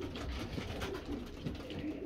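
Domestic pigeons in a loft cooing softly after feeding, low repeated coos under a steady background murmur, faint and close.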